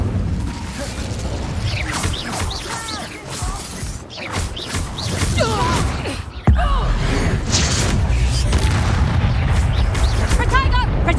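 Explosive spell blasts in Hogwarts Legacy, booming and crashing densely over continuous loud combat noise, with a sharp heavy impact partway through and shouted voices throughout.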